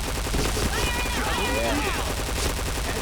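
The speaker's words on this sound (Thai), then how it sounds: "ยิงแบบว่ากดได้หมดแม็กเลยนะฮะ" A P90 airsoft gun fires rapid automatic bursts through its magazine outdoors, a dense, continuous rattle of shots heard close up while people talk and exclaim over it.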